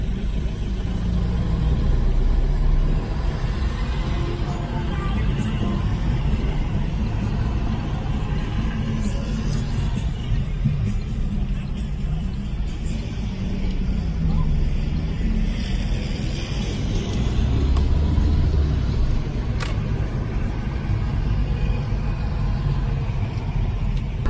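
A BMW E30 car engine runs with a steady low rumble throughout, swelling slightly as it pulls away, with faint background noise and no clear talk.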